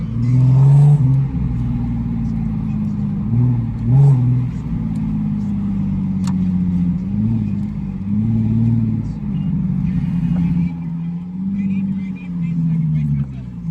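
A car's exhaust pops and bangs during hard acceleration pulls, with a loud, steady engine drone broken by a few sharp cracks near the start. People talk over the engine throughout.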